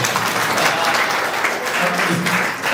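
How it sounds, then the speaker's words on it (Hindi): Loud, sustained applause from an audience at a school talk on mental health and teachers, dense clapping filling the whole stretch with a faint voice or two underneath. "जोरदार तालियां दोनों के लिए."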